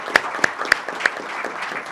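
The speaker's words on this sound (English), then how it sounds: "let us give you a round of applause" Scattered, sparse applause at a WellStar press conference for the health system's board members, a few distinct claps standing out over a soft wash of clapping from a small group.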